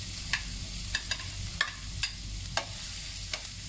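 Ginger fries in a preheated pan still holding residue from chicken, giving a steady, quiet sizzle broken by about eight sharp taps and scrapes of stirring spaced unevenly.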